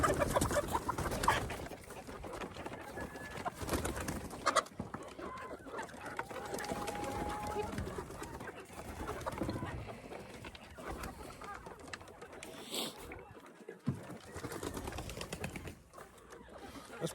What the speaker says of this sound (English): I'll go ahead and open it up, release the chickens, and you can see how it works